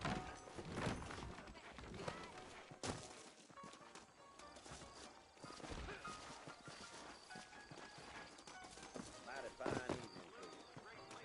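Horse hooves clip-clop in a steady walking rhythm in a video game, beneath voices, music and other game sounds, fairly close but partly masked by the busy mix.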